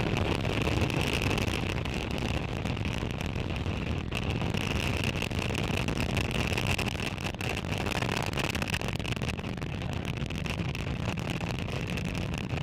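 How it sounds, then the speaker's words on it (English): A SpaceX Falcon 9 rocket launching from Florida with Starlink satellites: a dense, continuous rumbling roar, broad and steady with wind buffeting, heard with no talk. "Successful liftoff of Falcon 9 from Space Launch Complex in Florida, bringing 53 Starlink satellites into orbit."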